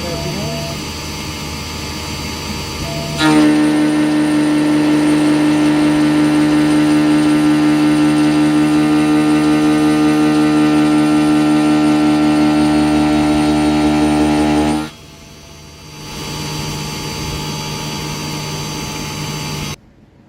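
A milling machine takes a roughing cut with a dull carbide cutter at about 4,700 RPM and 44 inches a minute, a loud, steady high-pitched whine with strong tones that runs about eleven seconds, then drops to a softer hum.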